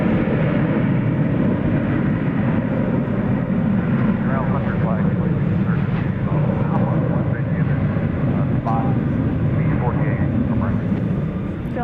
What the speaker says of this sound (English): We've got Qantas Flight 8 to Sydney, and there you see it now approaching the takeoff point.